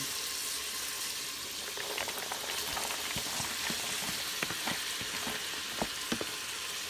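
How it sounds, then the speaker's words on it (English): Steady crackling sizzle of hot grease frying in an Instant Pot before onion is added for clam chowder, with scattered sharper pops over a continuous hiss, close and fairly quiet. "as you can see, it's sizzling. The grease is being released."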